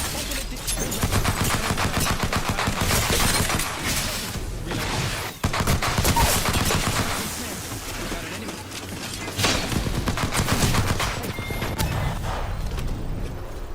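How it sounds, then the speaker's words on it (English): Apex Legends gunfire crackles in dense, fast bursts of automatic shots with occasional sharper reports, continuous and loud, mixed with game effects and character voices talking over it. "Hey, they're shooting at me."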